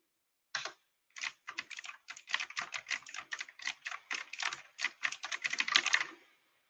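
Fast typing on a computer keyboard. Dense, irregular key clicks follow one another closely for about six seconds, heard close and alone.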